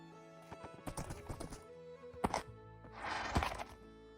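Horses in a video game: hooves clip-clop in quick bursts, a short thunk lands midway, and a horse gives a clear whinny near the end, all fairly faint.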